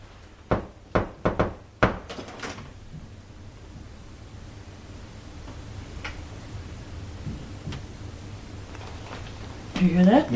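Several sharp knocks ring out in a quick cluster inside the Point Sur lighthouse, followed by a few fainter isolated taps against a quiet, hissy room, with a voice near the end.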